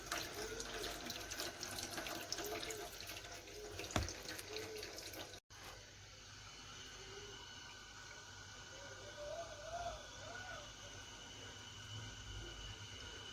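Tap water streams steadily into a sink to rinse out mombar casing, a soft continuous splashing close by with a brief knock partway through, then a quieter, lighter trickle for the rest.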